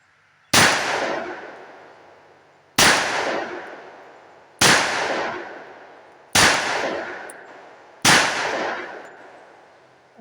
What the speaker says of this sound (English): we're going to see if this will eat those flat points on a big heavy 185 grain